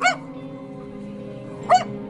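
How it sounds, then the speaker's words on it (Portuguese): A small dog barks furiously at a snake, two sharp yips spaced well apart over a steady low hum, fairly close and clear with no talk. "A cachorrinha tá furiosa."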